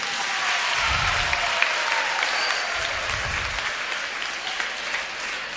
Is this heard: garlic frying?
no